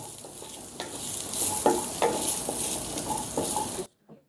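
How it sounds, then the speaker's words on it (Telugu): Large onion pieces sizzle and fry in a pan for a bitter gourd masala curry, with a spoon scraping and stirring in steady strokes and occasional light clinks against the pan, close and fairly loud before cutting off. "ఇప్పుడు ఈ ఉల్లిపాయ ముక్కల్ని దోరగా వేపుకుందాం"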